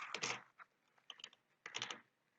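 Quick bursts of keystrokes on a computer keyboard while a database name is typed into an SQL tool, with close, crisp clicks in three short clusters separated by pauses.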